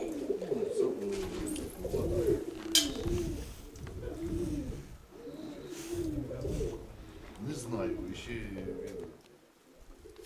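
Domestic pigeons, spotted grey and steel-grey birds in a keeper's loft, coo repeatedly in low rolling phrases close by, while a voice speaks briefly over them.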